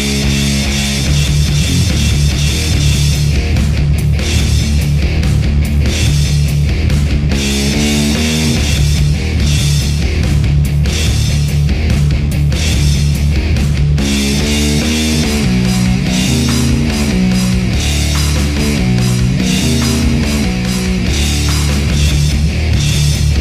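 Heavy distorted electric guitar riff from a metal song, played loud and continuous with chugging low-string palm mutes and a steady driving rhythm, no voices.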